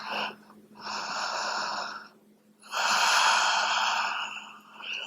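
Slow, deep breaths drawn in and let out through the nose during a yoga plow pose, two long airy breaths close up with a short pause between, no talking.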